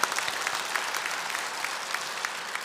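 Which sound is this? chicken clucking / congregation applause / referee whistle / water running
congregation applause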